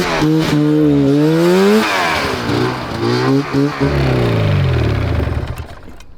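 A 670cc two-stroke go-kart engine screams close by, its pitch sweeping up and down through repeated hard revs before fading slightly at the end.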